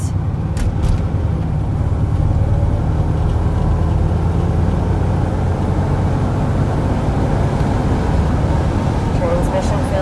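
A 1981 Chevrolet Corvette out on the road, its engine a steady loud low rumble throughout with little variation, no distinct gear changes standing out.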